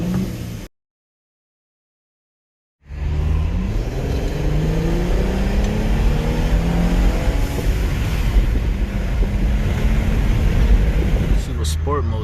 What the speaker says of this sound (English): here's how it revs